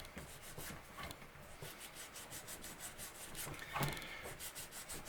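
A high-grit abrasive is rubbed back and forth over a guitar fretboard, giving quiet, close, rhythmic scratchy strokes at a steady pace, with one slightly louder scrape partway through.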